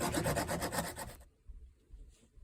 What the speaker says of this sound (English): Okay, got us all sanded down.